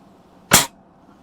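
A single sharp, loud crack from a Daisy 120 pellet rifle rings out alone, clipped short, with only quiet outdoor background before and after.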